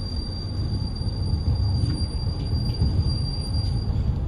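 Heard from on board, the KA Taksaka express train travels at about 120 km/h on the Cirebon Prujakan line, where the track has become rough. A deep, steady rumble of wheels and carriage continues throughout, with faint squeals and clatter.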